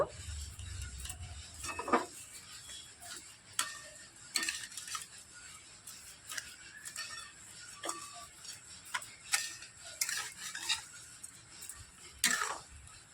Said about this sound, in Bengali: চিনিটা একটু নাড়াচাড়া করে মিশিয়ে নেব